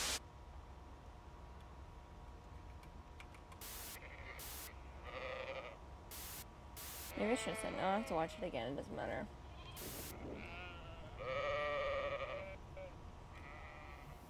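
Sheep in the video game Amanda the Adventurer bleat in several drawn-out, wavering calls amid game sound effects, while a person talks over the scene.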